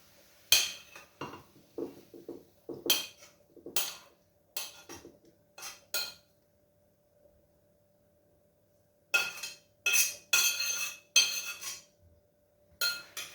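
A freshly cooked omelette is moved into a bowl in a home kitchen, giving bursts of sharp utensil clinks and scrapes against dishware in irregular clusters, with a quiet pause midway and no talking.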